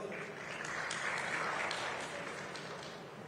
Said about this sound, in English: A big round of applause here for our panelists.